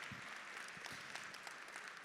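Faint, distant applause rises from an audience at an awards ceremony for students and scholarship recipients, a steady patter of clapping across the whole stretch.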